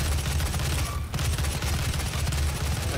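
Rapid, sustained automatic gunfire from a heavy assault rifle in the DOOM video game, a dense loud rattle with low thumps, briefly dipping for a moment before continuing.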